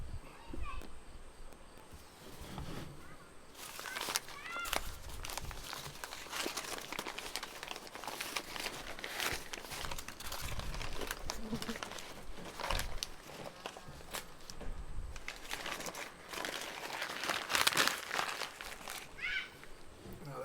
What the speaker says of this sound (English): We're going to go ahead and unwrap it and slice it up.